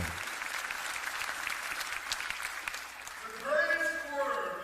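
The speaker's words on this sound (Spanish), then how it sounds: "dele un aplauso al Señor" A church congregation applauds during a Spanish-language sermon, broad steady clapping that swells toward the end, with voices rising over it in the final second.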